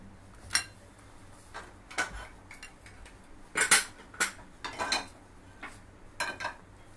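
A chopped onion filling is mixed in a bowl with a spoon. Sharp, irregular clinks and scrapes of metal against the bowl come close and fairly loud over a quiet background.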